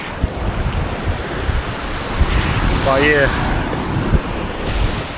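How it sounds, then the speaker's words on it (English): Ocean surf on a Little Corn Island beach in Nicaragua rolls and washes with heavy wind noise buffeting the microphone, loud and close, while someone talks briefly over it. "It's pretty high now, the ocean."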